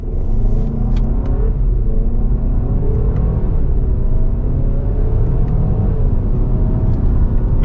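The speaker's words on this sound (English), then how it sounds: "Nice quick shifts down out of this 8-speed dual clutch." Inside a 2024 Hyundai Santa Fe SEL AWD, the engine rumbles loudly while the 8-speed dual-clutch transmission is worked through quick paddle-shifted downshifts, revs rising and dropping in short steps with a few clicks.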